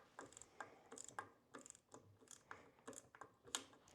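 Bolts on an AR rifle handguard are backed off with a tool, giving faint, close, irregular ratcheting clicks and metallic ticks repeating steadily.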